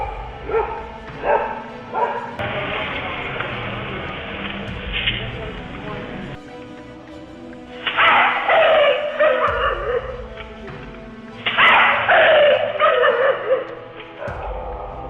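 Dogs barking repeatedly on a dark street at night, loud bursts of barks and yips with whimpering between them, occasional faint voices in the background.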